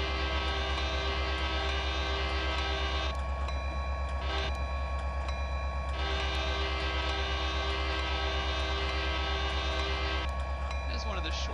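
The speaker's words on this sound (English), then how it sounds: "Hello, eastbound Norfolk Southern train." An eastbound Norfolk Southern train in Train Simulator 2015 rolls past a crossing with a steady, dense rumble and tonal hum that holds throughout, shifting in texture midway as the cars go by; a voice briefly talks over it.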